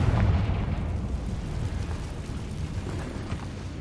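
A spell explosion in the Hogwarts Legacy video game, a loud rolling blast with deep rumble that hits hardest at the start and then trails off into a sustained boomy roar.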